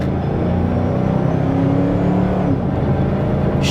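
A Ford Mustang GT with suspected rear suspension damage drives along, its engine giving a loud, steady roar with road noise from inside the car and no one speaking.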